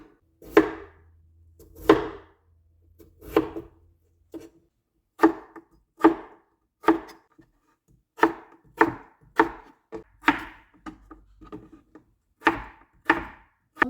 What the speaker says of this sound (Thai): แล้วเราก็จะมา หั่นน้องเป็น ชิ้น ๆ นะคะ เหมือนที่เขาทำเฟรนฟรายกันนะคะ